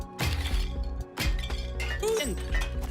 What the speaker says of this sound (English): Or take the hammer, which, yeah, you guessed it, is great for smashing stuff